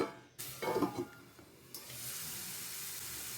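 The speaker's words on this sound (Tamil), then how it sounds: "இப்போ நம்ம இந்த ஸ்வீட் கார்னை பொரிச்சு எடுத்துக்கலாம்." Sweet corn kernels frying in hot oil in a covered pan, a short close burst of crackling and popping followed by a steady soft hiss of oil.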